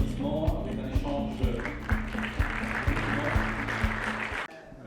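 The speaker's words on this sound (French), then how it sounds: "sur vos applaudissements" Audience applause at a construction industry convention, steady clapping from a hall crowd under a low rhythmic music bed with a regular beat, cutting off abruptly near the end.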